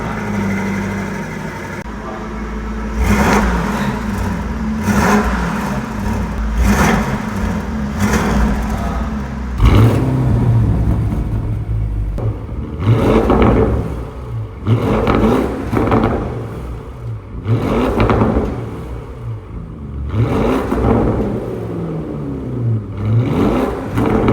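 A 2025 Porsche Cayenne Turbo GT engine, facelift model, revving repeatedly at a dealership, loud throttle blips rising and falling in a steady series of bursts with idle between them.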